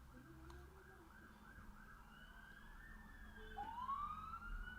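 Faint emergency sirens rise and fall in the distance across a housing estate, a second siren sweeping upward toward the end, over low background noise.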